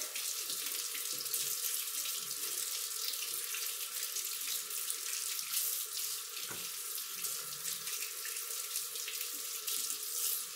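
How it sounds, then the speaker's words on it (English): A kitchen sink tap runs steadily while horseradish roots are rinsed under it to wash off soil, a continuous close hiss of flowing water with one brief knock partway through. "We're just gonna wash off the dirt."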